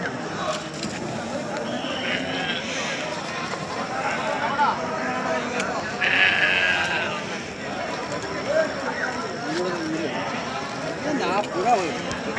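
Sheep bleat repeatedly amid the crowd at a busy sheep market, the calls rising over a steady background of people talking and general bustle.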